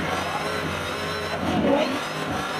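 Car engine sound from the Gymkhana Grid drift simulator video game at a SEMA show, a continuous mid-pitched engine drone with a brief rev swell near the end, amid show-floor background noise.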